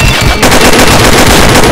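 An AK rifle fires in a video game, a very loud, close stream of rapid automatic shots running continuously.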